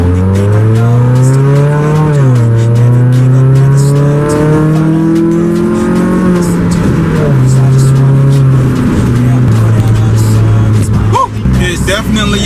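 Car engine fitted with new OBX headers revs hard with the catalytic converter still on, giving a loud, near-straight-piped drone that climbs and dips continuously, with a few sharp pops near the end.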